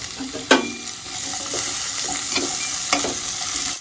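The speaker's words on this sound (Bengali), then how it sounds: "পেঁয়াজ, আদা, রসুন একটু ভাজা ভাজা হয়ে এসেছে" Onion, ginger, garlic and four green chillies fry in oil in a pan for dhaba-style lasooni palak paneer, a steady close sizzle broken by a few sharp spatula scrapes and clinks against the pan.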